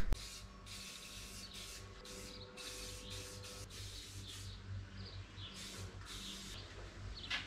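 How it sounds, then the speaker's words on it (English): Rust-Oleum satin black spray paint hisses from an aerosol can in a series of short bursts of varying length, separated by brief pauses and heard fairly close. "Doesn't spray very nice either, this particular can."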